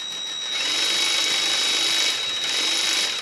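A tool steadily working 10mm screws loose on a 2.5L Toyota Camry engine, heard as a close, continuous whirring drone with a thin high whine, running slowly and evenly without pause.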